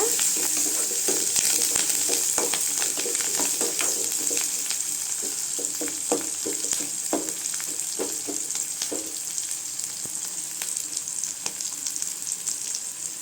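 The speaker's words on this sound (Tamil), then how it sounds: "அடுத்து பூண்டு சேர்த்துக்கோங்க. வெங்காயம் நல்லா வதங்கட்டுங்க." Onions and garlic sautéing in a pan for coriander chutney, a continuous close sizzle with scattered stirring clinks and scrapes, no talk.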